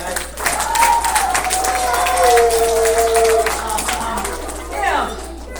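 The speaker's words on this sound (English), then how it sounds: "Let's give him another big round of applause, guys" A crowd at a science show applauds steadily under a voice speaking, with a brief whistling tone running through the middle before the clapping eases and swells again near the end.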